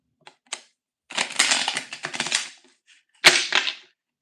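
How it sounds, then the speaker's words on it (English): A tarot card deck being shuffled: a couple of quick flicks, then a longer riffling rustle of cards, followed by a sharp tap and a short final shuffle, close and fairly quiet. "let me shuffle this one good time."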